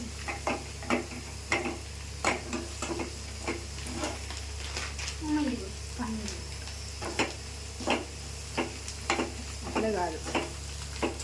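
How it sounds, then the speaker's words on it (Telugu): A paneer curry mixture with garam masala gets stirred in a frying pan, a spoon scraping in a steady rhythmic pattern over a soft continuous sizzle, close and moderately loud, with a voice briefly heard. "బాగా మిక్స్ చేయాలి"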